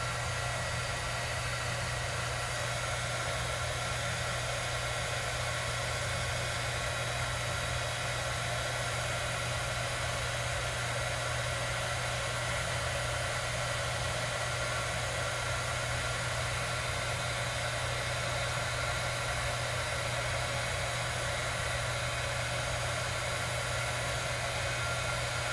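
A heat gun blows steadily throughout, embossing a spider web design for a Halloween papercraft project: a continuous, even, close-up rushing hiss with a low hum, unbroken and alone, with no talking.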